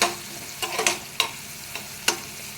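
Onions cook in a pan with ginger-garlic paste and turmeric for a ridge gourd and green-gram curry, giving a soft steady sizzle broken by a few short, sharp spatula scrapes.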